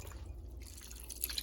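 Water trickles and drips briefly into a pan of chicken feet being cooked, a soft, faint splash with a slightly louder burst near the end and no voices.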